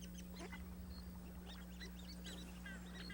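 Orinoco geese in a family group call from across a flooded savanna, with scattered honks and short calls rising over a steady low hum and busy background of other birds.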